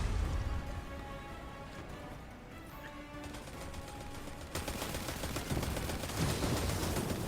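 In Destiny 2, an orbital missile barrage pounds the area with dense, rapid blasts and crackling impacts that build louder toward the end, mixed with layered game music and effects.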